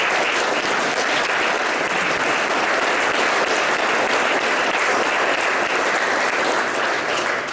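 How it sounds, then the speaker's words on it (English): A large audience at an SC22 Atena CIOMR awards event breaks into sustained, dense applause, loud and steady throughout with no speech over it. "I'd just like to recognise you with a round of applause and thank you for your contribution this week."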